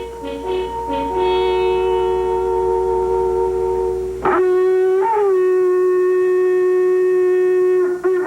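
A loud, close horn-like drone holds steady, then a dog howls in response with long, wavering, sliding tones that rise and fall against the sustained sound.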